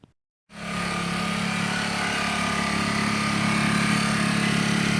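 A backup generator engine starts after a brief quiet moment and then idles with no load, holding a steady, close drone for the rest of the clip.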